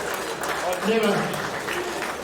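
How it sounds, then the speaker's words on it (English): A short burst of audience clapping at a boxing hall of fame event runs under someone speaking. The applause is moderately loud and fairly even throughout. "Give him a round of applause."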